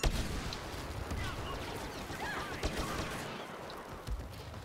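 Pistol fire in the Star Wars Battlefront video game, rapid sharp shots amid dense battle gunfire and explosions, fairly faint in the mix.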